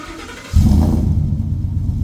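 A Ford F150 5.0 V8 fitted with an MBRP exhaust cranks and fires up about halfway in, settling into a deep, loud idle rumble close by.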